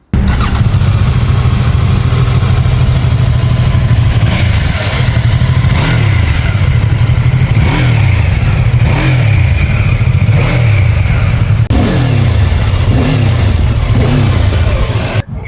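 A BMW F450 GS parallel-twin motorcycle engine with a 135-degree crank revs repeatedly, rising and falling in steady pulses, loud and close, with a throaty exhaust note and no talking.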